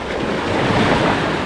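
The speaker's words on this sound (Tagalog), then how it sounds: "Malakas ang alon." Loud, continuous surf roars close by, waves rushing with wind noise over the microphone, no voices.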